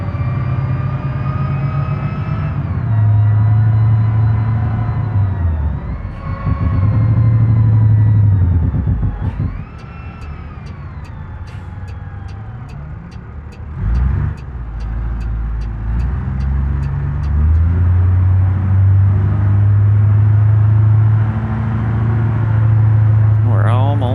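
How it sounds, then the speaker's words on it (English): A heavy truck's engine brake drones on a steep downhill grade in BeamNG, a loud sustained motor tone that rises and falls through the gears, joined partway through by a rapid clattering rattle and continuing without voices. "so we'll have our engine brake on"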